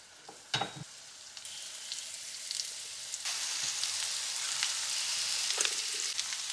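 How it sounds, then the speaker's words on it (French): Shallots placed cut side down in melted margarine in a frying pan, a few close clicks at first, then a steady bright sizzle that grows and holds, with no talking. "je vais venir disposer mes échalotes avec la face coupée vers la poêle"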